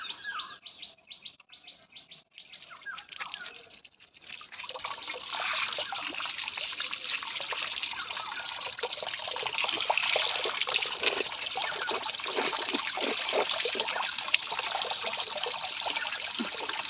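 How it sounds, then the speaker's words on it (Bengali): Water trickling and splashing steadily outdoors while someone washes their face in the morning, with birds chirping in the background and no talk. "তো একটু মুখটা ধুয়ে নেব।"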